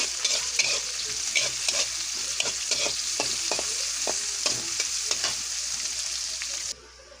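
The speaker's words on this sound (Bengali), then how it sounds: "কড়াইতে তেল দিয়ে দিলাম, পেঁয়াজ কাঁচামরিচ দিয়ে দিচ্ছি।" Oil sizzles steadily in a pan with onions and green chillies while a spoon or spatula scrapes and stirs with irregular clicks, a constant frying hiss throughout.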